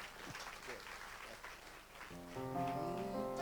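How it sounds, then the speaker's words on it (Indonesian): A church congregation claps steadily together, a dense patter that continues as organ or keyboard music swells in underneath partway through. "Yang percaya tepuk tangan buat Tuhan."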